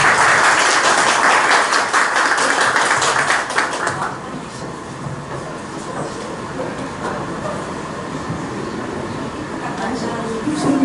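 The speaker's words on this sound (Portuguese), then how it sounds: "Professora, por favor, Manuela Rodrigues, palmas pessoal" An audience at a business forum on family holding companies applauds loudly in a dense burst of clapping for about four seconds, then the clapping fades into quieter room noise.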